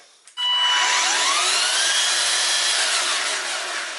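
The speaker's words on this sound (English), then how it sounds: "Ryobi weed trimmer. Doesn't have any wobble, that's good. And let's listen to it." A Ryobi 40V battery-powered weed trimmer starts after a brief click and quickly winds up to a high, steady whine, then holds close and loud.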